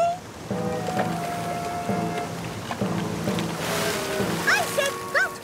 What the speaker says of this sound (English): The waves are getting huge.